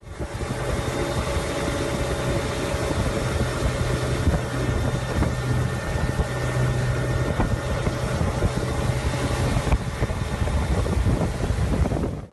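A motorboat tows a wakeboarder across open water: a steady engine drone under strong wind buffeting, loud and continuous throughout, with no voices.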